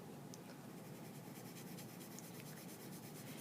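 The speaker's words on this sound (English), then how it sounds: "sometimes it helps to color it almost like little oval motions" A pencil shades paper in small oval motions, producing a steady, close, continuous soft scratching and rubbing that runs on without pause.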